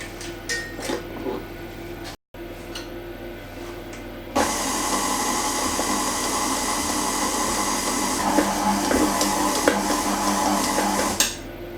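Kitchen Assistant stand mixer kneading bara brith (Welsh tea bread) dough in a home kitchen; after a few seconds of light clatter it starts up as a steady, loud motor whir that runs continuously to the end.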